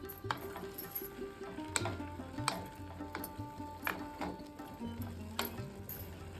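A spoon stirs pumpkin with salt, turmeric and curry leaves in a pan on a medium flame, giving soft scraping with repeated light clinks against the metal at an uneven rhythm.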